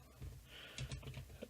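Typing on a computer keyboard during a game, a quick run of soft, close key clicks with a few firmer taps, fairly quiet.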